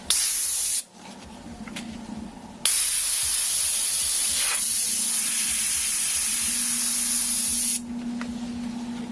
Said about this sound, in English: Spray it and then just pull it back.